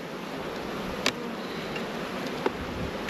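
Honey bees in a nuc hive make a soft, continuous droning hum, fairly faint and steady, with a couple of brief clicks or knocks.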